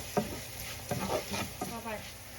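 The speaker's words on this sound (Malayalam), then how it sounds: "നമുക്ക് നന്നായിട്ടൊന്ന് മഞ്ഞൾപ്പൊടി ഒന്ന് മൂത്ത് വരട്ടെ." Turmeric powder roasts in a hot pan under a few scraping, stirring strokes, with soft, irregular scuffs and a light sizzle, close and fairly quiet.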